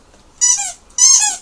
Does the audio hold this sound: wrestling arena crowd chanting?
no